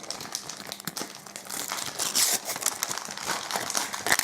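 Foil card booster pack from a Finding Nemo trading card set being opened, close crinkling and tearing wrapper sounds running continuously for several seconds, with sharper crackles near the end.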